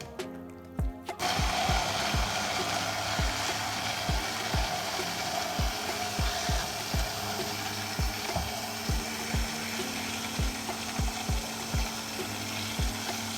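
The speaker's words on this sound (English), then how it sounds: "I'm just gonna jam this immersion blender in here and hope for the best." An immersion stick blender works through shrimp head mayo, a steady mechanical whir with a regular train of sharp clicks or knocks as the blade hits the container, starting after a brief pause and running evenly throughout.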